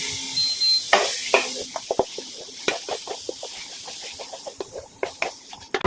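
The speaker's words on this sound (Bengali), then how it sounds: "ভালো করে নাড়তে হবে।" A utensil scrapes and clatters in a pan as food for a chicken dish is stirred, with sharp irregular clicks over a soft, steady sizzle, close and fairly loud, with no talking.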